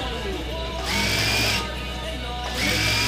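A sewing machine stitching a pillowcase, its motor whirring in bursts that rise and drop back as the seam runs, loud and close, with a steady hum between runs and no talking.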